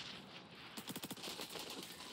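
A rapid burst of M4A1 rifle fire in the shooter game XDefiant, a quick rattling string of shots, fairly faint and distant beneath a constant background hum.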